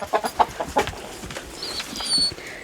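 A few short clucks from nearby chickens in quick succession, followed by quieter rustling and a faint chirp.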